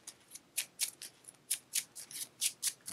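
Playing cards being shuffled back into a deck during a Marvel card game, heard as a run of about ten crisp, rapid riffling bursts in an irregular rhythm, close and fairly quiet, with no talking.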